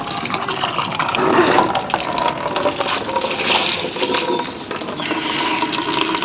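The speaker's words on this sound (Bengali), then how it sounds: "জল দিচ্ছি" Water pours steadily into a container indoors as a continuous broadband splashing rush, fairly close and loud throughout, with no talk over it.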